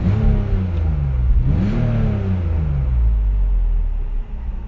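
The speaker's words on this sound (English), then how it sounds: "And the car runs pretty well." A used convertible's engine runs with a steady low rumble, briefly swelling as it revs before settling back, with no voices over it.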